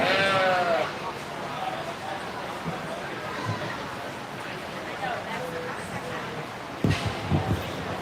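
Sheep bleat in a livestock show arena at a 4-H and FFA county fair sheep show, with one clear bleat near the start and scattered calls amid crowd chatter and a PA voice.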